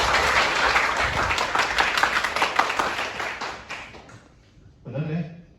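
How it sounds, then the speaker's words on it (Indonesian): Audience applause fills a school religious quiz final for several seconds, loud and steady, then fades out, followed by a short burst of someone speaking. "Tepuk tangan."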